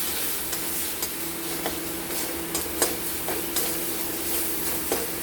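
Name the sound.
spices being stirred and sautéed in a wok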